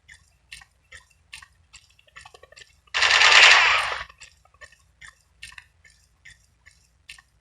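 Gunfire in the online shooter Strike Team Online: a single loud, close burst of rapid automatic fire lasting about a second, set among faint clicks and small ticking game sounds with no speech.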